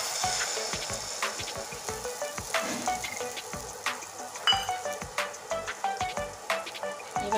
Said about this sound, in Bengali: এবার ডিমটা তেলে ছেড়ে দিচ্ছি।